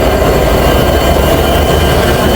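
Banglabandha Express passenger train running, a steady broadband rumble and roar filling the whole clip at constant loudness, close and continuous with no voices.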